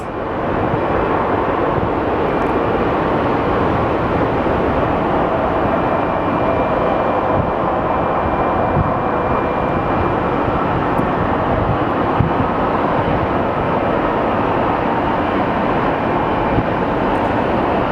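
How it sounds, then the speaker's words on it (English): Jet engines of an Envoy Embraer regional aircraft whine and rumble steadily at an airport as it prepares to depart, a broad continuous roar with a thin high tone, moderately distant and unbroken. "I believe this Embraer, this Envoy, is getting ready to depart."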